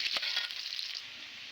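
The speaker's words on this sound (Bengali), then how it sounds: "আমি প্রথমে আলুগুলো ভেজে নেব।" Potatoes fry in hot mustard oil in a pan, giving a steady, close hiss and crackle of sizzling with a few sharper pops near the start, heard alone without voices.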